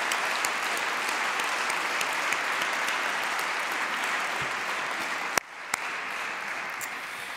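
An audience at a Global Financing Facility replenishment event claps together in sustained, dense applause, loud and even for several seconds, then briefly dips after a sharp knock before the clapping resumes.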